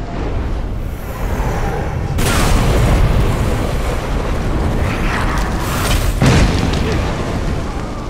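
A campfire explodes and blows up a group of orcs in Middle-earth: Shadow of War, a loud deep boom followed by a rumbling roar and a second burst, with a voice speaking over it.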